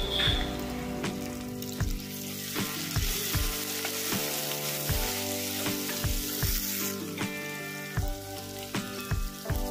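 Tomato fries in oil with curry leaves in a pan, a steady crackling sizzle marked by repeated sharp knocks of a spoon stirring against the pan, close and continuous.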